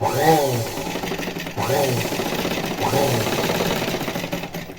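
A sewing machine runs in three short bursts of mechanical whirring while stitching piping on a plain blouse, close by, with a brief pause between each run.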